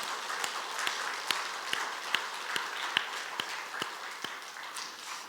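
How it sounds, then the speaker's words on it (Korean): Church congregation applauding the choir, conductor and accompanist after a hymn, an even rolling patter of claps with a few sharper individual hands, steady for several seconds with no talk. "우리 함께 한번 격려와 하나님께 영광의 박수 한번 드리겠습니다."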